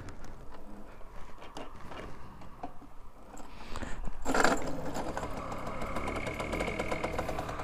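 A motorcycle engine cranks over, then catches about four seconds in with a sharp burst. It settles into a steady, rapid idle chatter nearby, and no one speaks.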